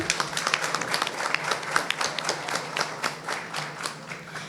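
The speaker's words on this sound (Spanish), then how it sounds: "Un aplauso por favor para Rebeca." Applause from a small audience at a science talk in Manta: steady, moderately loud clapping with scattered sharp claps, continuing throughout without speech.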